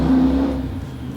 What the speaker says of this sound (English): I think the motorcycle just threw up outside.